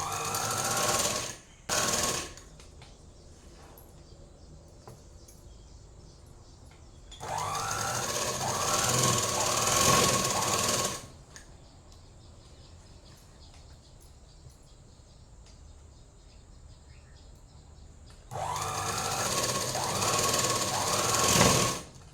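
A sewing machine stitches a folded hem on a chudidhar top in three separate bursts of rapid, loud rattling, two long and one short, with quiet gaps and faint background chirping between them.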